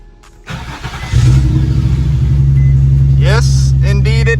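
A Nissan 350Z sports car cranks and fires up close by, the engine catching into a steady loud idle with a brief rev, followed by a few high electronic chirps or squeals near the end.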